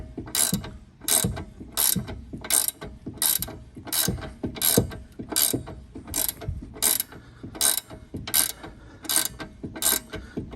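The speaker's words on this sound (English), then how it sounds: "this Vise-Grip is working better. It's going so much easier now." Vise-Grip locking pliers turn out a front pinch bolt on an Audi B8 suspension, making a steady run of about fifteen sharp ratchet-like clicks in regular rhythm. The clicks are close and come with faint mechanical scraping, and no one speaks.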